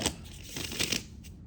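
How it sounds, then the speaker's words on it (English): Tarot cards riffled and shuffled close by in a few quick, soft bursts of papery flutter. "And I need to do a couple good shuffles."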